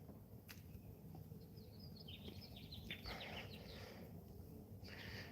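Faint, high bird chirps come in short scattered bursts over steady background noise, with a small cluster near the middle and another near the end.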